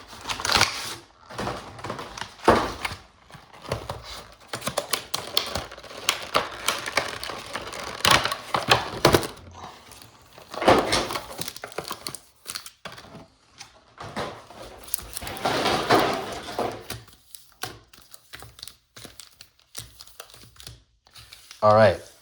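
Pokémon card boxes and foil packs are torn open by hand, with loud crinkling, ripping and crushing bursts in irregular spurts and quieter gaps over about twenty seconds.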